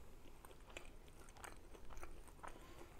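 Deep fried shrimp from a Chinese takeout meal is bitten and chewed close up, a string of soft crunches and crackles at low volume with no talk.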